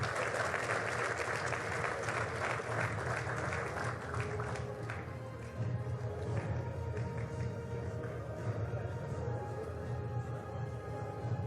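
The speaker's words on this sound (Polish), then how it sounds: "Ogromne brawa." Quiet, distant applause fills a hall at a Polish motorsport awards gala honouring hill-climb class champions. Dense clapping is strongest at first, then thins into a softer background wash under steady room noise.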